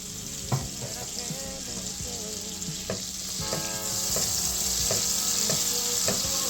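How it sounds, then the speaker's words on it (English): Butter and olive oil sizzle steadily in a hot pan, a loud close frying hiss that swells toward the end, with occasional clinks and stirring knocks over it. "Put your butter in. A little bit of olive oil, not too much."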